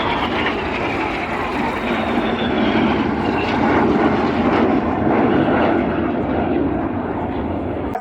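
Red Arrows aerobatic jets roar overhead at an air show during the boomerang manoeuvre, a broad, steady jet rumble that swells and fades slightly across the pass.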